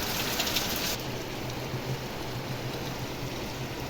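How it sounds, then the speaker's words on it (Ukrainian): Rain falls steadily in a constant broad hiss, close and moderately loud, with a faint low hum running underneath. "Ну, дощик гарний"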